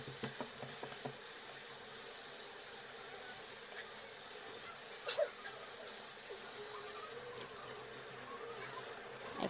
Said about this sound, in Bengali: এখন আমি মশলাগুলো ভালো করে কষাবো।